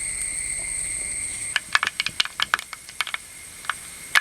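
Mustard seeds popping in hot oil in a pan: after a quiet start, a burst of sharp, irregular crackling pops and ticks, close by, thinning out toward the end.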